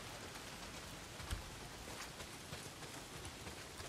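Steady heavy rain in the video game Days Gone, a dense, even hiss of falling water with a brief low thud partway through, no voices.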